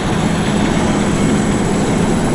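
A loud, steady mechanical rumble and rattle of a roller coaster train being hauled up a lift hill at Yomiuriland, Japan, continuing without a break.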